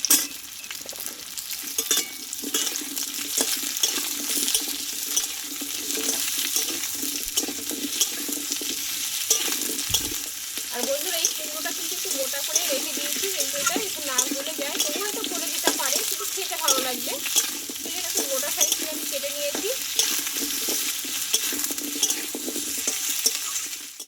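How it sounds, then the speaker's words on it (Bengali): Pumpkin and pointed gourd sautéing in oil in a pan, with a steady loud sizzle and frequent stirring scrapes from a spatula running throughout, close up and alone. "এই মিষ্টি কুমড়োটা আমি পটলের সঙ্গে কষিয়ে নেবো"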